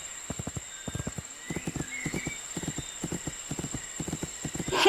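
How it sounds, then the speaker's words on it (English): Rapid, evenly grouped hoofbeats of a galloping horse in a riding video game, clip-clops close and crisp in quick triplet-like bursts with a steady tonal hum behind, no speech. "then use it once more to move into the fastest gallop"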